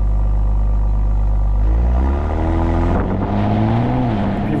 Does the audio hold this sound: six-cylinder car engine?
yes